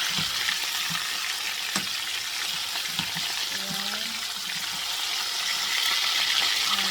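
Chicken frying in a pan gives a steady, close hiss of sizzling oil that runs unbroken throughout, with a few soft clinks and stirring bumps and no talking.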